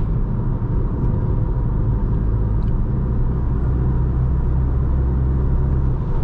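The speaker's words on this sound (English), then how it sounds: "It's fairly quiet besides some tire and wind noise" Steady low rumble of tire and wind noise inside a 2023 VW Jetta GLI cruising on the autobahn, a constant loud drone with faint higher hiss and no voices.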